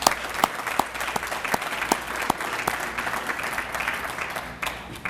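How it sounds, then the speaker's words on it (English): Audience applause at a school reception honoring retiring staff, dense continuous clapping from a crowd with individual sharp claps popping out, steady and moderately loud for the whole stretch. "Let's give all of those individuals a big round of applause."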